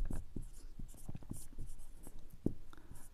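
A pen scratches across paper, working a class 7 math problem by hand, with close, irregular strokes and taps in quick succession.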